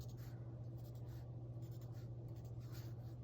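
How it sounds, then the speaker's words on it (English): A pen marks lines across fabric, producing soft, faint scratchy strokes close by over a quiet low hum, with no speech. "marking your 7-inch marks across the top and across the bottom"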